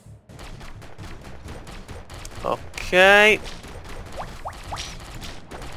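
Cannon fire in a tower defense video game: a dense run of sharp gunfire-like shots and crashes, with a louder burst near the middle, under someone speaking briefly in Italian.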